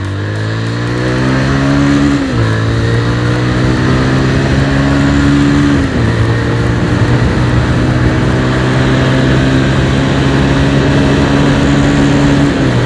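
A Pulsar 150 motorcycle running Castrol Power 1 Cruise oil accelerates hard on a highway, its loud, steady engine note climbing in pitch and dropping briefly at two gear shifts before pulling on strongly.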